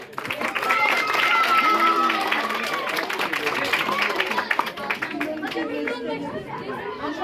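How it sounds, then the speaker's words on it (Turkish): Audience applause at a children's painting competition award ceremony held by a municipality in Samsun, a steady, dense burst of clapping across the hall lasting several seconds and fading slightly near the end, with crowd chatter mixed in. "kuvvetli bir alkış alalım"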